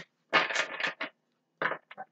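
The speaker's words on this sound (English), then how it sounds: "Give it a shuffle or two." Tarot cards being shuffled by hand in a card reading, heard as a long papery riffle followed by a pause and then a few short, softer bursts of shuffling, close and fairly quiet with no talking.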